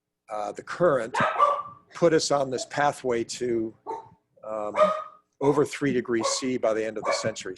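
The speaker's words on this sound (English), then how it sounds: "that's my dog in the background." A dog barks intermittently in the background, partly masked by a man's steady lecture-style talking that runs through the whole stretch.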